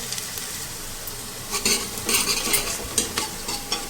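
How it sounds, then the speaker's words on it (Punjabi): Green chillies and onions fry in a pan for an aloo badi sabzi, a steady soft sizzle with a few louder spoon scrapes and stirring clatters in the second half, close and without talk. "ਹੁਣ ਅਸੀਂ ਇਹਨੂੰ ਵੀ ਪਿਆਜ਼ਾਂ ਦੇ ਨਾਲ ਹੀ ਫਰਾਈ ਕਰ ਲਾਂਗੇ"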